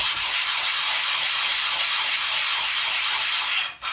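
A knife blade is rubbed steadily on a 150 grit diamond sharpening plate, giving a continuous, close, gritty scraping hiss that breaks off briefly just before the end.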